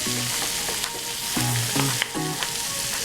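Sweet yellow onions frying with bacon in a pan, a steady close sizzle with intermittent scraping stirs and light clinks, no voices.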